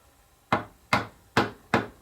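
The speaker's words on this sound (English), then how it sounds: "Hammer that one in." A toddler hammers nails into wood in a workshop, four sharp, evenly spaced whacks about every half second, close and clear with no talking.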